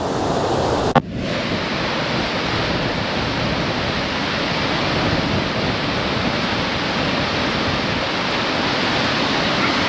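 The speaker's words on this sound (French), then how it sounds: "Je vais le débrancher pour que vous ayez le bruit de la cascade" Waterfall roaring as a loud, dense, continuous rush of water heard up close, steady throughout after a brief shift near the start, with nothing else audible over it.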